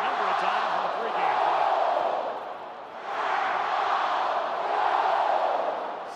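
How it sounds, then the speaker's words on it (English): Large stadium crowd at Dowdy-Finley Stadium chanting a purple-and-gold cheer during a college football game, a broad, loud roar of many voices that swells in waves and briefly dips midway before rising again. "We got the purple and gold cheer going here tonight at Dowdy Ficklin Stadium"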